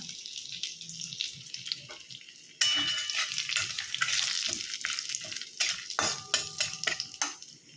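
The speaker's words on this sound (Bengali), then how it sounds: "এই তেলটার মধ্যে আমি দারচিনি তেজপাতা শুকনো লঙ্কা গোটা জিরে ফোড়ন দিয়ে দিলাম" Whole cinnamon, bay leaves, dried red chillies and cumin seeds hit hot oil for an egg masala curry. After quiet clinks, a loud hissing sizzle bursts in and continues with utensil taps and stirring.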